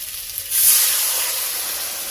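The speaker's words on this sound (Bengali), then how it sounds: "উষ্ণ উষ্ণ গরম জল দিয়ে দিলাম।" Warm water hits a pan of frying potatoes with a sudden loud hissing burst of steam that settles into a continuous sizzle.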